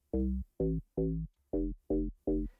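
Six deep, buzzy synth bass notes from the Zeta Dance Bass 3 preset in a steady rhythm, each clipped short with brief gaps, played alone and up close.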